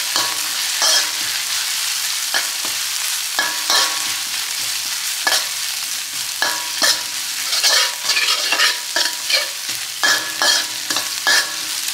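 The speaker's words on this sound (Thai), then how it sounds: "ผัดให้พริกกระเทียมหอม" Chili and garlic stir-fried in a pan for Thai kale with canned fish: steady close sizzling under repeated scraping, clattering strokes of a spatula against the pan, with no voices.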